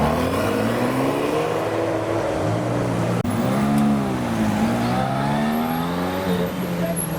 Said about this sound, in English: we've got a family getting the cars to rev, even the vintage cars